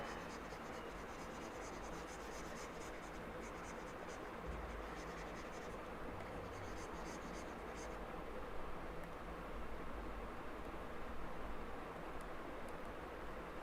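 Marker or chalk scratches on a classroom board during a Class 11 biology lesson on the living world, a steady faint scraping over broadband background hiss with no talk.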